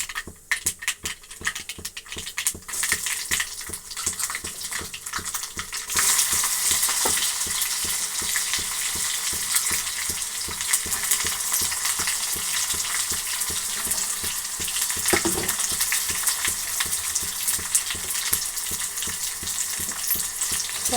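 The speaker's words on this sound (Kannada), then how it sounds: "ಸಾಸಿವೆ ಚಿಟ್ಲಬೇಕು ಚೆನ್ನಾಗಿ ಎಣ್ಣೆಯಲ್ಲಿ." Mustard and cumin seeds tempering in hot oil for a bassaru curry, a loud continuous sizzle with dense crackling pops that grows stronger partway through and carries on steadily, with no talk.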